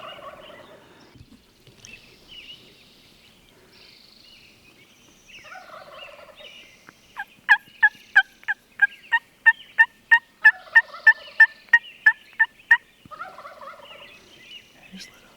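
A wild turkey gobbles during a spring hunt, answered by a quick run of loud, evenly spaced clucks or yelps from a call, with softer gobble bursts before and after in quiet open country.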